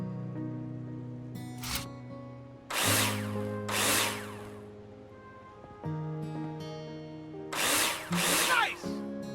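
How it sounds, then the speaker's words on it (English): Power drill in the Builder Simulator video game driving screws into plasterboard, several loud separate whirring bursts of a second or so each, with quiet tonal game background between them. "Take your drill out and screw them in."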